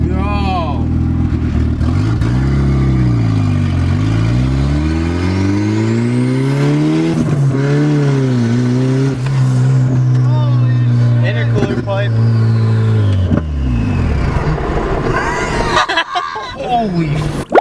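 Turbocharged Nissan 240SX accelerating hard through several gears, engine pitch sweeping up and dropping at each shift with turbo whine, loud and close from inside the car, with voices talking and shouting over it.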